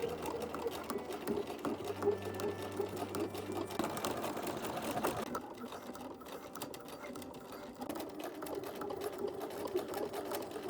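A sewing machine stitching bias binding along a garment's bottom edge, a steady close mechanical whir running throughout with small shifts in speed, while a voice talks over it.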